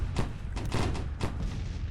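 Cannon artillery fires in a Grand Tactician Civil War battle, three or four dull booms spaced irregularly over a low rumbling battlefield bed, fairly distant and without speech.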